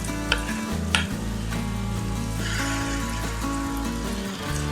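Mango malpua batter fries over medium heat in a wide, shallow kadai, giving a continuous bubbling sizzle with a couple of sharper pops at the start and a low steady hum beneath.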